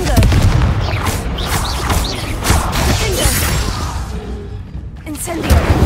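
Confringo blasting spell in Hogwarts Legacy bursting in a dense run of booming impacts and crackling blasts, loud and continuous, mixed with other spell and combat noise.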